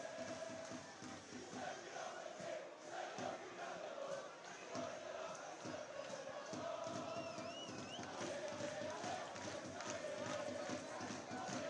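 Over 600 travelling L.R. Vicenza supporters in the away end at a Serie C match against Virtus Verona, a faint, continuous mass of chanting voices from a distance, with a commentator talking over it.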